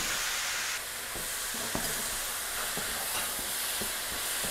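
Mushrooms stir-fried in a hot pan with doubanjiang sauce give off a steady close sizzle, with a spatula scraping and tapping the pan at regular intervals and no voices.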